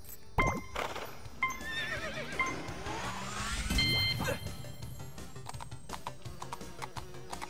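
A horse in The LEGO Movie 2 Videogame whinnies loudly, then hoofbeats clip-clop along in a quick galloping rhythm over game sounds and music, with a sharp effect near the middle.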